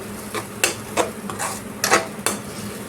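Mashed eggplant is stirred in a pan, a spoon scraping and clinking against the metal in several sharp, uneven strokes over a faint sizzle.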